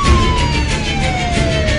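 A 112 ambulance siren wails steadily and loudly as the emergency vehicle moves through heavy Istanbul traffic, the continuous tone filling the whole stretch with no voices.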